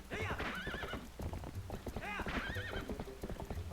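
A horse galloping and neighing in The Legend of Zelda: Twilight Princess, with quick clip-clop hoofbeats and two whinnies, under people talking.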